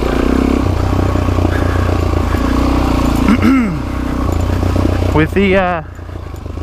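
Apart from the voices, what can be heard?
off-road motorcycle engine in second gear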